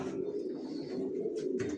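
Racing pigeon chicks from a loft coo in a steady low throaty burble, close and continuous, with a few faint higher flutters near the end.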